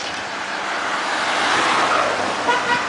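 Cars climb a mountain road at high speed, passing close in a loud, rising rush of tire and engine noise, with a brief horn toot near the end.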